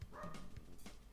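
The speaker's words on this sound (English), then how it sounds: "Apologies, my dog is barking." A pet dog barks indoors, a few muffled yaps in quick succession from a room away, faint and brief.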